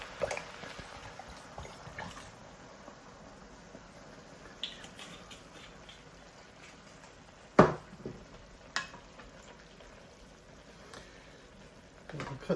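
Wine hits a Bolognese ragu pot in an Instant Pot, bringing soft sizzling and bubbling with occasional stirring clatters and sharp scrapes, moderately close and without any talking.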